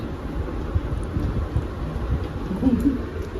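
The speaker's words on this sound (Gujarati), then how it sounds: "બહાર તો વરસાદનું મોસમ છે" Steady rain hisses outside, a continuous broadband wash with low rumbling underneath and no voices.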